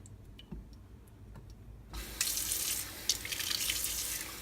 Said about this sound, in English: dump the waste products down the sink and continue washing with soapy water